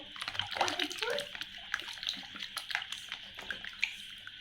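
Animal toys are swished and rinsed in water, with soft splashing and trickling close by, quiet and irregular, while a voice speaks over part of it.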